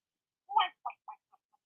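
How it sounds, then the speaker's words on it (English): Close, distinct short calls from a bird, one louder cry followed by three or four fading quacks in quick succession against an otherwise quiet background. "Why are you quacking?"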